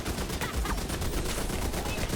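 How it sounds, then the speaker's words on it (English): Turrets in a video game fire a dense, continuous stream of rapid shots, loud and close throughout. "I actually can make the turrets stop shooting me by disrupting"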